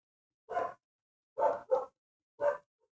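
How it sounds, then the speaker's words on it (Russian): A dog barks four times in separate sharp bursts, one isolated, then a quick pair, then a last bark, moderately near against silence. "гавкает собака"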